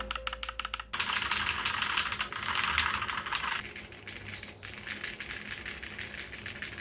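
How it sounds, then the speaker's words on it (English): Keys clatter quickly and continuously on a Dierya DK61SE budget mechanical keyboard with unlubed switches and plate-mounted stabilizers. The harsh bottom-out and top-out clacks come with slight rattle, close up and without talk. "Although there are some rattle from typing"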